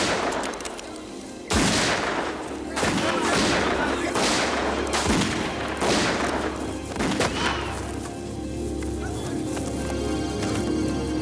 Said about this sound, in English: We heard shots.